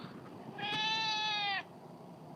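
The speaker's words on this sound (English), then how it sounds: "Complainy cat." A complaining house cat gives one drawn-out, whining meow of about a second, close and clear against a quiet room.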